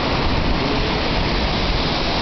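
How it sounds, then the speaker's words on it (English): Cibodas waterfall roaring as a dense, continuous wash of falling water, loud and close with no voices over it. "And now there are also more waterfalls there."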